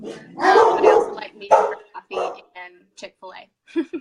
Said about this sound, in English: Pardon my dogs. They bark at everything.